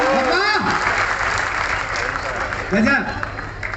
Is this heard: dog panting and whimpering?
no